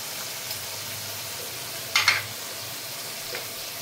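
Shrimp and mustard masala sizzle in a pan in a Bengali kitchen, a steady close hiss of frying with a brief scraping stir midway and no talking.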